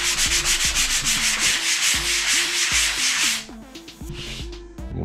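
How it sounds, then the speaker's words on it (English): Sandpaper rubbed over a patched bathroom wall surface to smooth an edge, a close, steady back-and-forth scratching in quick rhythmic strokes for several seconds, then a brief lighter pass. "Lightly sand that, make a nice edge."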